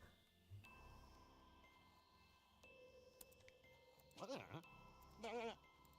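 Sheep bleat in the Worldbox video game, two short wavering bleats near the end over quiet game music and a soft voice.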